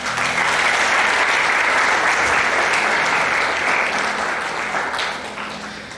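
A church congregation applauds in a sustained, dense wash of clapping that holds steady and then slowly tapers off at the end, with no voices over it.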